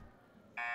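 A varsity girls' basketball game buzzer ends the first half: a loud, steady electronic tone cuts in sharply after a quiet stretch of gym ambience and holds to the end.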